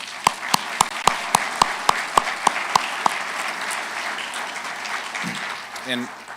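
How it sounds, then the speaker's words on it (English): Applause at a corporate awards celebration for nominees shown on screen: about a dozen sharp, evenly spaced loud claps stand out over a softer crowd clapping that fades, followed by a brief voice. "I'd give one more round of applause for those who are on the screen right here"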